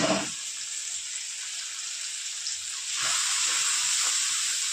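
Ginger, garlic and ground spices (cumin, chilli, coriander, turmeric, Kashmiri chilli) fry in a pan with a steady, close sizzle and hiss that swells louder partway through, with no talk over it.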